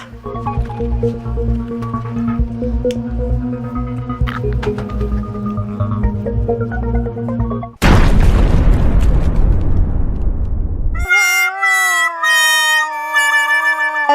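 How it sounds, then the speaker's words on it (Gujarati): Cat-like tones and clutter give way to a sudden loud firecracker bomb blast in a wedding house, a roaring burst of noise, then bright sustained musical tones. "લગનવાળા ઘરમાં બોમ્બ ફૂટ્યો."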